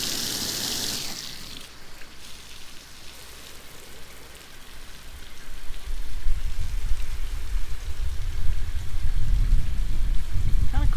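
Water from a hose sheets and runs off a car hood freshly coated with Meguiar's Hybrid Ceramic Wax, a steady splashing rush that grows louder and fuller toward the end.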